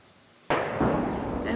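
A single loud gunshot-like blast bursts out after a quiet moment on a rural homestead, followed by a rumbling echo and a second lesser pop, with no talk over it.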